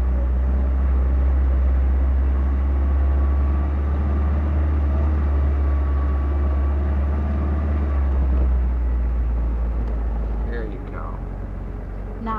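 Engine of a manual car held under clutch control by a learner driver: a steady, loud low hum that holds, then drops slightly near the end, with talk over it.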